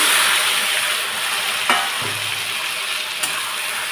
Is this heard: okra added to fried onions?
yes